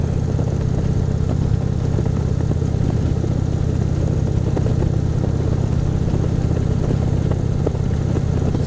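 A custom chrome Goliath chopper with a 2003 engine, fat 250 rear tire and 90 front, runs steadily nearby, a continuous low mechanical rumble at a constant level throughout with no talking.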